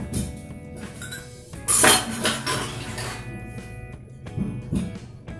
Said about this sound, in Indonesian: sekarang saatnya kita cuci perabotan